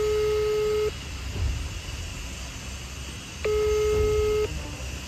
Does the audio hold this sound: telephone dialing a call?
yes